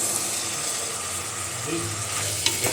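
Vegetables sizzle and fry in mustard oil in a pan, a steady close hiss running throughout, with a few light clinks and stirring sounds near the end.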